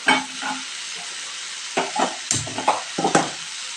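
Spice paste for a taro and potato dish fries in a pan while being stirred, producing loud, close bursts of scraping and sizzling separated by short quieter gaps.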